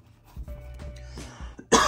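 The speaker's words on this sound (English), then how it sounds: "Apologies for coughing in your guys' ear." Someone coughs after swallowing something down the wrong pipe, a few short, close throat-clearing coughs followed by one sharper, louder cough at the end.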